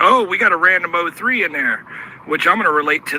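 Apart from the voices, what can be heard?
No everyday noises stand out.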